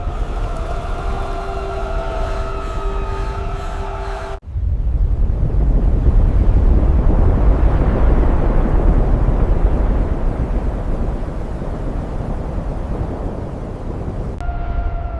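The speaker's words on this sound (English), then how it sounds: "The mountain is exploding!" A volcanic eruption in a dramatized reconstruction of ancient Atlantis around 1600 BC: a deep, sustained roaring rumble that swells loud and steady for about ten seconds after a cut from music.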